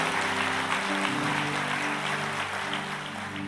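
A church congregation applauds, a dense continuous wash of many hands clapping that holds steady and eases off slightly toward the end, with a sustained musical tone underneath.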